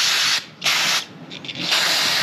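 Cleaner sprays onto a dirty generator carburetor in loud, close, hissing bursts, three main blasts with brief gaps between them.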